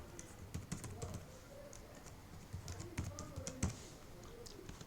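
Computer keyboard keys tapped in quick irregular bursts while an email and password are entered at a login screen, close and moderately quiet.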